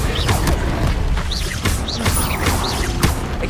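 Confringo fire-blast spells in the video game Hogwarts Legacy crash and boom repeatedly amid continuous dense combat effects, with bursts arriving about every half second.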